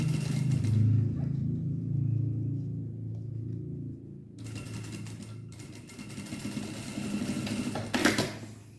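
A sewing machine runs a steady topstitch closing the bottom of a handbag, its close, continuous whirring hum lasting several seconds before a brief clatter near the end.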